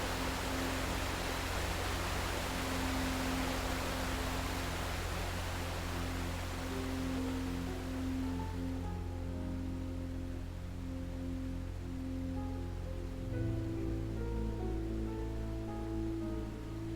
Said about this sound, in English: The only sound is the rushing of water from the tumbling streams.